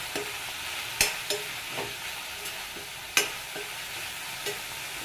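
Steady frying hiss from a pan as seasoning cooks for cucumber coconut chutney, punctuated by several crisp spoon knocks and scrapes against the pan; fairly quiet and close, with no voices.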